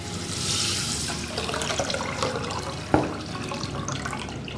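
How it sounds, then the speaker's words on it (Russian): Water pours from a tap into a saucepan over one and a half cups of rice, a steady splashing gush close by with a brief knock partway through. "заливаем его водой"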